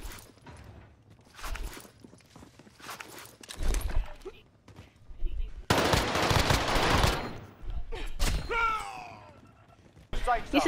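Video game gunfire bursts out in rapid volleys and single shots during a close-quarters firefight, loud and near, while players talk over the action.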